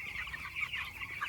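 Chickens on a village poultry farm cluck and chirp in a continuous overlapping chorus, close and fairly busy, with no talking.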